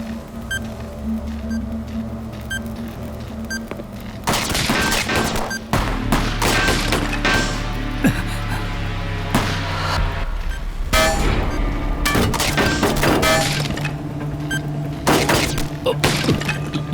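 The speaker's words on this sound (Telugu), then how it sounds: "ఎవరు షూట్ చేస్తున్నారు, ఎక్కడి నుంచో కూడా తెలియడం లేదే" Gunfire in a TV crime drama: rapid bursts of shots and sharp cracks with breaking and shattering sounds, loud and close, over a low rumbling music bed and with no talking.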